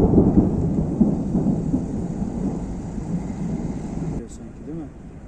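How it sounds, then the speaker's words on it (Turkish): Steady heavy rain roars with low rumbling thunder throughout a night thunderstorm in İzmit, Turkey, then the downpour thins slightly near the end. "gök gürültülü sağanak yağış yarım saat boyunca etkisini gösterdi"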